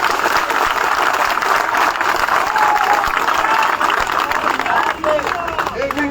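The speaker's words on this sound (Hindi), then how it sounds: "सभी जो यहाँ उपस्थित हुए हैं सबको यहाँ वापस अपने लिए ताली बजा दीजिए" Applause from a crowd at an outdoor Karni Sena protest rally in Sidhi, India, dense clapping that holds steady throughout, with raised voices mixed into the noise and a brief dip near the end.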